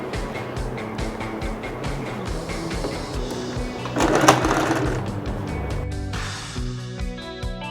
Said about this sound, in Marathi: तर आता आपण आधी इकडनं याला टिप मारून घेऊयात।